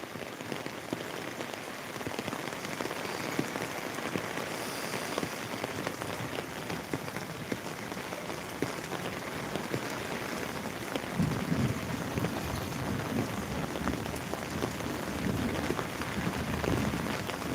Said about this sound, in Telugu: వర్షం దాదాపు మనం లైవ్ స్టార్ట్ చేసినప్పటి నుంచి ఇప్పటికైతే తీవ్రంగా పెరిగిందని చెప్పచ్చు